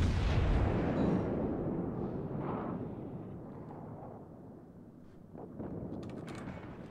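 Heavy naval guns of the battleship Gneisenau booming in a naval video game, a loud broad blast at the start rolling away into rumbling decay, with fainter distant thuds and crackles following.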